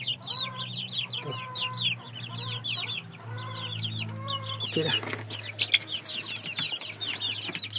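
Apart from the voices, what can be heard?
chickens clucking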